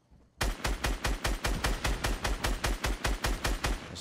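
Automatic gunfire in Fortnite Battle Royale rattles off as a steady rapid string of about twenty loud, evenly spaced shots lasting several seconds, with no talk over it.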